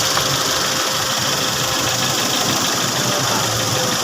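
A 2013 Ford Explorer V6 engine idles steadily nearby, a continuous even mechanical hum with a dense broadband whir and no pauses or voices.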